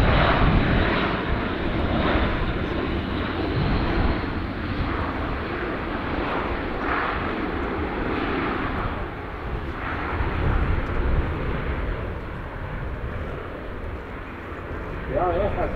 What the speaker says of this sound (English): as this slow spin fly path demonstrates, the aircraft can also fly slowly enough